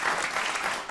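Studio audience applauding at a televised political debate in St Austell, a dense wash of clapping that holds steady for under a second and then cuts off.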